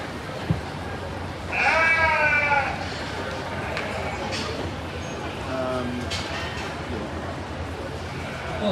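Southdown sheep bleat in a junior market lamb show ring, one clear wavering bleat and a fainter one later, set against crowd murmur and an announcer's voice over a public address system.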